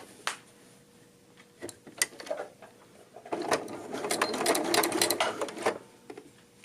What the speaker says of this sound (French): je vais venir faire un petit avance-recul pour barrer ma couture